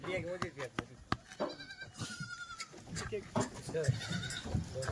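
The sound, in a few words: Kathiawadi goats bleating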